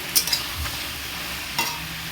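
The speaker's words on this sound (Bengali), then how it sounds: "হালকা ভাজা হয়ে গেছে, এর মধ্যে দেবো টমেটো কুচি। টমেটোগুলো দিয়ে দিলাম।" Potatoes and freshly added chopped tomatoes sizzle in oil in a pan, a steady moderate frying hiss punctuated by a few scraping clinks of the stirring spoon near the start and once more midway.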